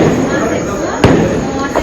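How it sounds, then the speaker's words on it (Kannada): Firecrackers bursting at a birthday celebration: a sharp bang stands out over steady background noise, followed by a fainter pop near the end. "ನಿಮ್ ಬರ್ಡೇ ದಿನ ಪಟಾಕಿ"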